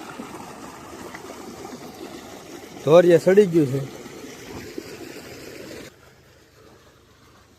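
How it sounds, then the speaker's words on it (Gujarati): Water rushes steadily into a farm field as a continuous soft wash of flow, with someone speaking briefly midway; the sound cuts off abruptly near the end, leaving near quiet. "અમારી વાડીનું પાણી આવું આવે છે"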